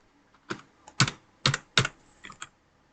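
Typing a father's name into an online entrance-exam application form on a computer keyboard: several quick bursts of close keystrokes separated by short pauses, with no talking.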